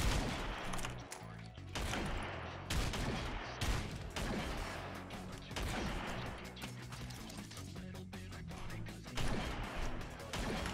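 Sniper rifle and other gunfire in a gun game match in Tower Unite on the Meadows map, with repeated sharp shots and crashes over continuous game music and effects throughout.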